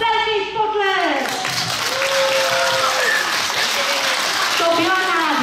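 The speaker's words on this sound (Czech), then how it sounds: "Velký potlesk!" Audience applause at a gathering of foster parents in the Liberec region, following a group song. Steady, dense clapping fills the whole stretch, with sung or spoken voice tones rising over it at the start and again near the end.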